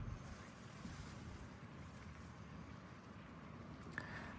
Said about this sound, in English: a slight breeze, the sound of a boat motor in the distance, a bird now and then